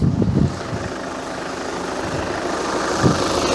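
A VW Scirocco engine idles steadily after a fuel filter change, a low continuous running drone with a couple of brief louder bumps near the start and end, close by with no talking.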